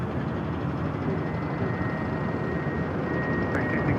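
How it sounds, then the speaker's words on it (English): An All Nippon Airways Boeing Dreamliner arriving from Tokyo Haneda at Los Angeles International Airport makes a steady, broad jet roar, continuous and fairly loud with a faint high whine, no talk. "Our next arrival is the Dreamliner coming in from Tokyo Haneda on Nippon Airways."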